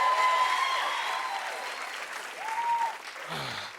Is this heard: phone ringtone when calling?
no